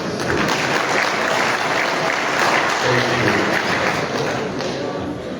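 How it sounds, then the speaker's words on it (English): Large audience at an infrastructure conference in Uganda applauding Senegal's Teranga Lions football team, a loud, sustained roar of dense clapping with a low rumble beneath, steady from start to finish. "I want us, all of us, to clap for the Teranga lions"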